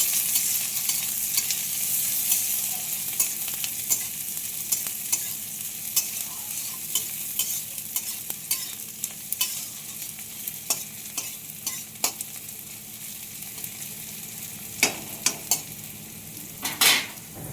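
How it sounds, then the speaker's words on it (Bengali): Two medium chopped onions fry in hot oil, a steady close sizzle broken by repeated sharp scrapes and clinks of a spoon stirring against the pan, with no voices. "দুটো মিডিয়াম সাইজের পেঁয়াজ কুচিয়ে নিয়েছি। এখন লাল লাল করে ভেজে নেব।"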